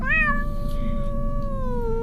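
A cat meows in one long, drawn-out call that rises and then slowly falls, loud and close over a steady low background rumble.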